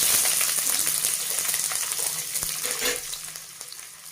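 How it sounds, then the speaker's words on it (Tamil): Cubed onion dropped into hot oil that has just been used for frying sizzles loudly at first, then settles into a steady crackle with a few stirring knocks against the pan. "இப்போ இதே எண்ணெயில் கியூப் மாதிரி கட் பண்ண வெங்காயத்தை நான் சேர்த்துக்கிறேன்."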